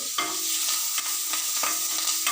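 Green chillies and curry leaves frying in a pan alongside drumstick leaves, a bright continuous sizzle broken by quick stirring scrapes at regular intervals, close and alone.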